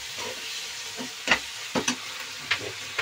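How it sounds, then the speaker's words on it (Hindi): Tomatoes and salt frying in a pan for sarson ka saag, a steady soft sizzle broken by a few sharp spoon scrapes and clicks, close up with no talking. "इसे भी अच्छे से भून लूंगी मैं टमाटर को"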